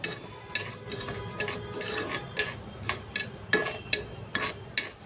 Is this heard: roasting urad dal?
yes